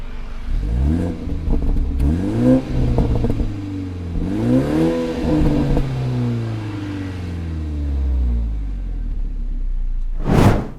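A BMW F30 330i M Sport engine is revved at a standstill, rising and falling in repeated swells over a deep idle rumble, with a final quick rev burst near the end.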